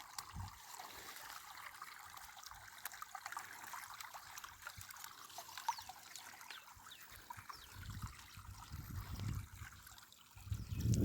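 Water trickles and dribbles out of a broken irrigation channel on a farm field, a steady low gurgle running throughout and swelling into louder splashing near the end.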